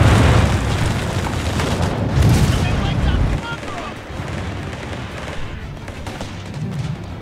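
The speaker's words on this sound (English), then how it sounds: "My artillery." Artillery shells explode in Company of Heroes 3 on a snowy Winter Line map, with heavy rumbling booms for the first few seconds settling into continuous distant battle noise, while players talk over it.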